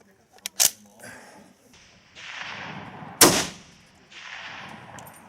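Two sharp rifle shots ring out about two and a half seconds apart, each a loud close crack followed by a short decaying echo, with faint outdoor background and quiet voices between them.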